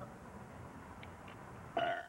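A single short burp after drinking root beer comes near the end, brief and fairly close, following quiet room background.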